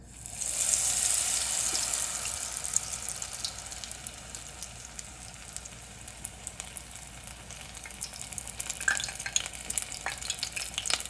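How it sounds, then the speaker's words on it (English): Tempura batter with chanterelle mushrooms dropped into hot oil, with a bright bubbling hiss that swells early and then crackles steadily with small pops, close and continuous. "So take that, and then we'll add that right into the oil."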